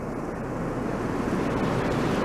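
Beaver Creek flowing after a burn, a loud, continuous rushing wash of water with wind buffeting the microphone, steady throughout.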